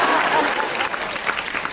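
Audience at a fan convention panel applauding, a dense close burst of clapping that holds steady and tapers slightly.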